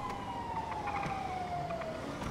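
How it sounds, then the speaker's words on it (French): A police siren in a roleplay video game wails faintly and distantly in a single slowly falling tone, set against a low steady rumble, with no talking. "j'entends une sirène"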